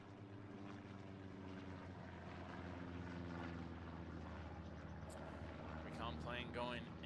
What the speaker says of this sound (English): Plane going in.